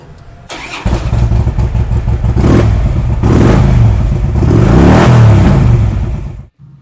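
A 2008 Harley Davidson Screamin Eagle CVO Ultra Classic motorcycle engine cranks, fires up and revs loudly nearby several times, its deep rumbling V-twin note rising and falling before cutting off abruptly.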